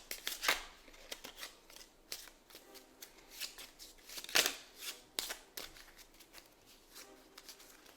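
Playing cards shuffled at a tabletop card game, several quick riffle bursts with sharp crisp attacks spread across the clip, close and clear over a quiet room.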